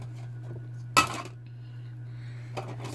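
Dishes are dropped into a kitchen sink with one sharp clatter of crockery and cutlery, followed by a faint clink, over a steady low electrical hum.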